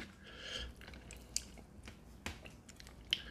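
Soft, close-up chewing of a bite of lamb burger, with faint wet mouth sounds and a few sharper crunchy clicks over a quiet background.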